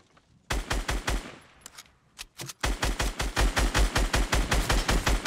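Rapid Fortnite gunfire rattles in quick bursts of evenly spaced shots, close and loud, with a short pause and a few scattered shots before a long sustained stream of fire, and no voices.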